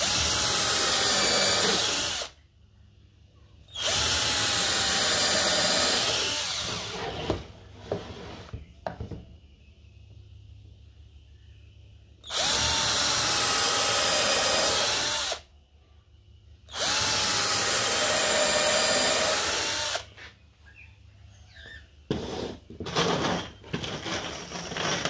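A power drill bores into the wooden rebate of an AusINPA MK 3 stingless bee box, flat-pack by Bob the Beeman, in loud sustained bursts of several seconds each, three or four runs separated by quieter pauses with handling noise.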